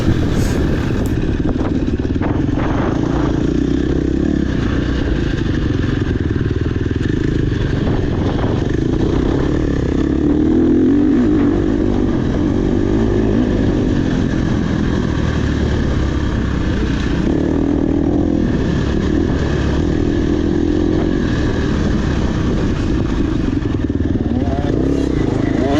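Dirt bike engines during an OCCRA off-road race at Badlands in Vici, Oklahoma, a continuous close, rough engine drone with clattering and thumps from the terrain, as another small bike passes.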